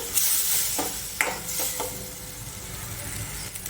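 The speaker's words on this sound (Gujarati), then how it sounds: "પછી છેલ્લે થોડું પાણી નાખીશું" Water splashed into hot roasted spices in a pan for Kathiyawadi panchratna dal, giving a sharp burst of sizzling followed by softer stirring scrapes and a fading hiss, close by.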